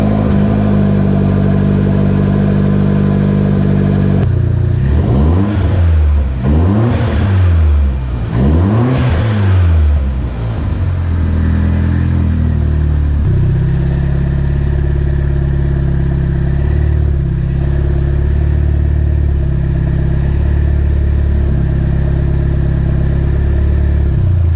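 A 2018 Vanderhall Venice fitted with a catless BNR downpipe revs loudly up close, with three sharp rising-and-falling revs in the middle, then settles into a steady, throbbing idle.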